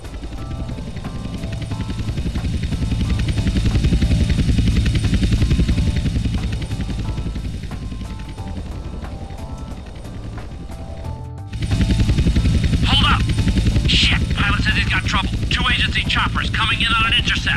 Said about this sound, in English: Choppers coming in on an intercept.